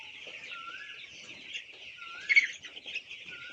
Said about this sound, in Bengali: দেখতেই পারছেন মুরগি খাদ্য পানি খাওয়ার জন্য কি করতেছি।